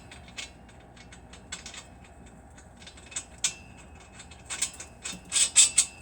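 A nut is threaded onto a bolt during a catback exhaust install on a 1993 Honda del Sol: sparse, faint metallic clicks and light ratcheting taps, growing busier toward the end, with no talk.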